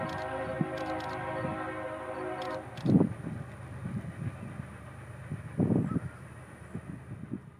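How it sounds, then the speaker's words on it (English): CSX freight train L674 heads south toward Mobile from Flomaton, opening with a sustained multi-tone horn blast, then a low rumble with clunks and two louder heavy knocks as the cars roll past nearby. "L674 would round the bend at Flomaton and come south towards Mobile, passing us here at the field momentarily"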